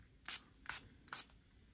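Three quick close hisses of a eucalyptus pillow and room mist spray bottle, each spritz short and soft, evenly spaced in a quiet room.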